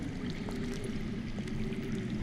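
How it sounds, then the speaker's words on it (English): Water flows underground in the Game of Thrones video game, a continuous, muffled, gurgling stream heard at a moderate level throughout, with no talk. "I hear water. From underground."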